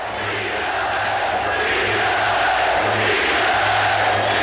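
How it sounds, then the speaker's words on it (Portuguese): A packed basketball crowd at the Boston Garden, Celtics fans roaring and chanting during a game against the Los Angeles Lakers, a dense continuous wall of voices with rhythmic pulses of chant underneath, loud and sustained throughout. "A torcida gritava, ganhe do Los Angeles."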